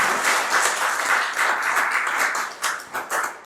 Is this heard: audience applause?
yes